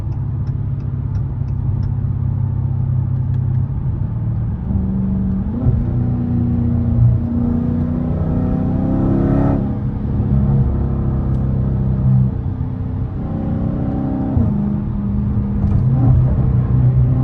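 A Dodge Challenger Scat Pack with the 392 engine pulls hard on a highway at morning, its loud engine rising and falling through repeated gear-changing surges of deep, throaty revving that fill the cabin.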